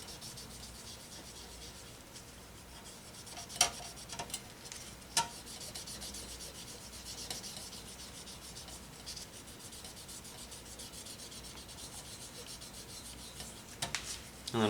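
A Q-tip soaked in rubbing alcohol scrubs residue off a part of a Dell Precision T3500 PC, a faint, steady scratchy rubbing that runs throughout with a few small clicks.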